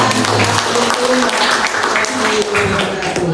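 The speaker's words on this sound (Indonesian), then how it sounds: "Sekali lagi tepuk tangan" Audience applause at an Indonesian community program launch event: a sustained, fairly loud wash of clapping with voices and some tonal sound layered over it throughout.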